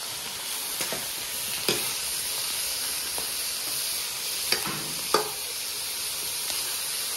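Onions sizzle steadily in hot oil with chillies and fat for biryani, a constant crackling hiss broken by a few sharp spatters and the scrape of stirring.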